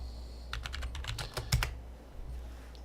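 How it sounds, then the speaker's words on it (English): Fingers tap quickly on a computer keyboard in a short burst of a dozen or so close, crisp clicks, then go quiet apart from a faint hum. "I'm going to type in Packy Snow"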